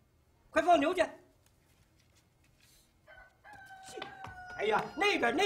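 A man imitates a rooster crowing at midnight in a comic farm scene, the drawn-out vocal crow rising loud and close after a burst of talk, followed by further voices.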